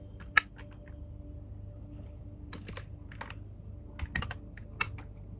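Command being typed on a computer keyboard: scattered crisp key taps in short clusters with a loud sharp strike near the start, close and clear over a faint steady hum, no speech.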